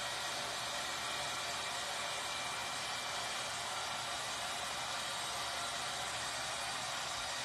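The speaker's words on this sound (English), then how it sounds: "I just let the blow dryer do it." A blow dryer runs continuously and steadily, a fairly quiet, even whooshing hiss, while it heats a 2 mm thick foam sheet.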